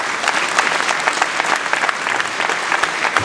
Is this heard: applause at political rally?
yes